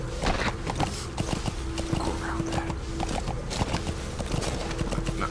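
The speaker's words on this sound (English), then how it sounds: "I'm just a horse." Horse hooves clip-clop in quick rhythmic beats in Metal Gear Solid 5: The Phantom Pain, with faint game ambience beneath.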